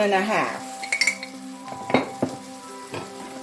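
Curry powder fries in hot oil in a pan while cooking potato and chickpea curry, a close sizzle punctuated by metal utensil clinks and scrapes, with a brief voice-like tone at the start.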